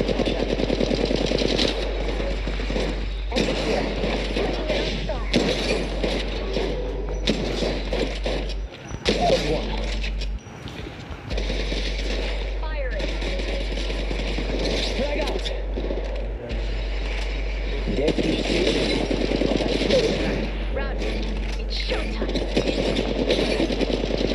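Dense, sustained gunfire from the mobile battle royale game Apex Legends Mobile, rapid bursts running almost continuously under in-game voice and chatter, with one brief drop in the middle.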